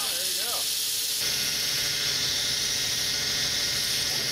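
Loud, continuous steam hiss fills the space while a hot dog is being steamed in an autoclave, a broad close rush that steps up in intensity after a moment and holds steady, with a voice briefly audible near the start.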